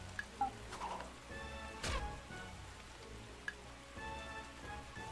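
Rain falls in the video game Taikou Risshiden V DX, a steady patter of drops with a few sharper ticks over soft tonal game sounds and no voices.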